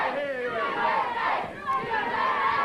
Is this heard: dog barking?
no